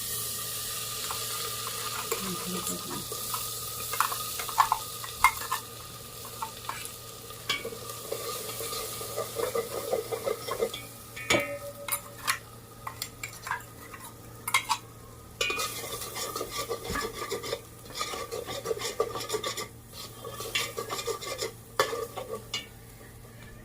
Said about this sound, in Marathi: त्याला तेल सुटूस तर आपण भाजून घेऊ मस्तपैकी कमी आचेवर